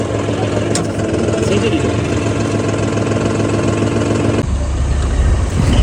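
An idling tractor engine hums and rumbles close by, straining as it tries to lift a loaded trolley, and its low throb deepens and grows louder near the end, with a voice speaking faintly over it.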